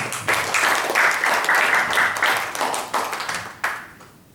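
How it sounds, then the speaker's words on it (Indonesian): A gathered audience claps in a lively, fairly close burst that rises sharply, holds strong for a few seconds, then thins into scattered claps and fades out. "Tepuk tangan untuk kita semua"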